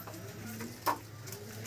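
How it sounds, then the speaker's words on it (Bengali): Native male pigeons coo softly in low, throaty murmurs at a pigeon sale, with a faint background bustle and a brief louder rustle partway through. "দেশি নর পায়রা"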